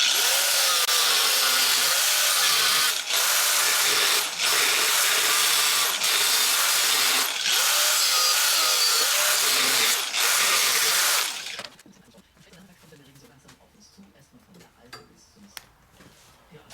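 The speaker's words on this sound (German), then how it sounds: "jetzt werde ich das mit der Flex raustrennen" An angle grinder cuts through 3 mm sheet metal for a VW T3 bus, a loud, harsh, steady whine for about eleven seconds with brief dips, then stops, leaving quiet workshop noises.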